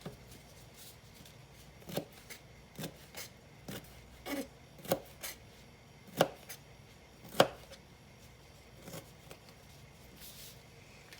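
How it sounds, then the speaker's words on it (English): A knife slices a jalapeño pepper, producing about a dozen soft, separate cutting taps at an uneven pace against a quiet background. "And I'm just going to take and slice it."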